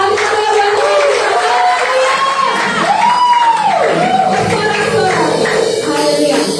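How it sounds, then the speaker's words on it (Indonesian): A church congregation at an anniversary service cheers and shouts together, a loud sustained roar of many voices with rising whoops and cries and some clapping underneath. "Bersorak-sorak."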